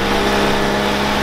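Fiat Duna 60 car engine idling, a steady, even, low hum with no revving, heard close and loud for about a second without speech.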